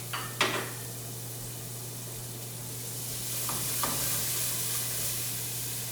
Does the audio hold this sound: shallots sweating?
yes